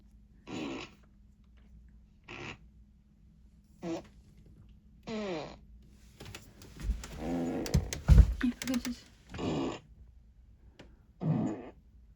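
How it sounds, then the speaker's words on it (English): Fart sound effects played by an Alexa smart speaker: a string of short, separate farts spaced a second or two apart, with a longer, louder, sputtering burst in the middle, close and clear. "Shuffling to the fart beat."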